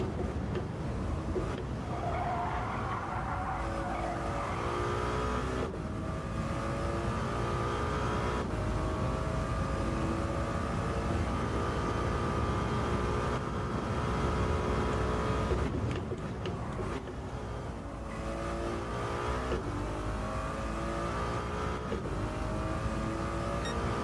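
Porsche race car engines in a Gran Turismo 7 endurance race, a continuous loud drone of revving engines with rising and falling pitch as gears shift, steady and close throughout with no voices.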